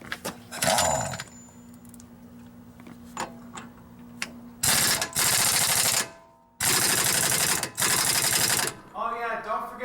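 An impact wrench hammers in several loud, rapid bursts while tightening the front axle nut on a Honda Accord during hub and brake work, with a brief voice between bursts.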